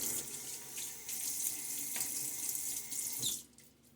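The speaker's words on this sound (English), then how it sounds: "get my face wet once again" Water runs steadily from a bathroom tap into a sink as a face is wetted for shaving, a continuous close splashing hiss that stops abruptly near the end.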